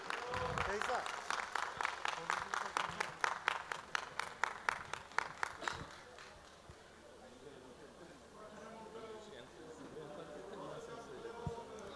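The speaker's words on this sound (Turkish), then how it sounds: "Alkışlarla Suat Bey'i de sahnemize alıyoruz." A crowd at a Yörük festival in Antalya claps in unison to welcome a guest on stage, loud rhythmic beats for about six seconds before fading into murmuring talk and background chatter.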